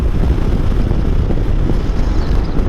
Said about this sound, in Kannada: ಆಷಾಢದ ಗಾಳಿ ಜೋರಾಗಿ ಬೀಸ್ತಾ ಇದೆ